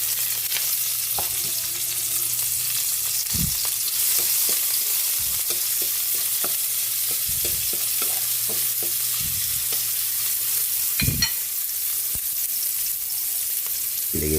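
Onions frying in a pan, a continuous soft sizzle with scattered spatula scrapes and clinks against the metal, close and steady, no talking.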